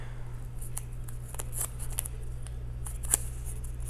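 Packing tape is pulled and torn to seal cardboard packaging for a raw comic, with short sharp ripping strips over a low steady hum, up close and without talk.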